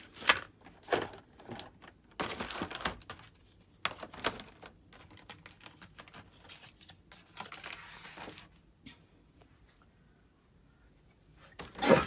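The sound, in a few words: spray paint cans being set down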